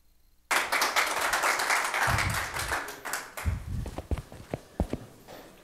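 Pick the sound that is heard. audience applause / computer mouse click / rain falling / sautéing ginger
audience applause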